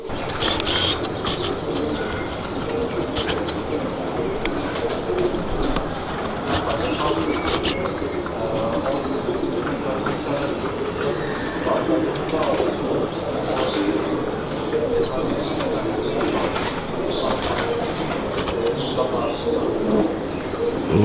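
Pigeons coo steadily in a rooftop loft, soft continuous cooing and occasional chirps at close range, with faint background noise and no clear talk.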